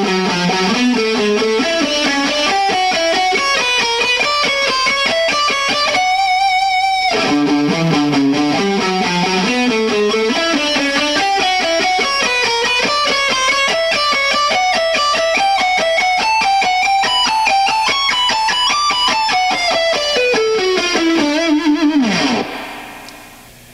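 Distorted electric guitar with echo and reverb playing a lick slowly, a continuous run of sustained, rising and falling notes with one brief gap, loud and alone, fading out at the end.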